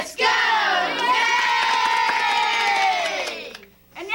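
A crowd of children at a 1983 TV show taping cheer together in one long, loud, sustained shout that fades near the end, then starts up again.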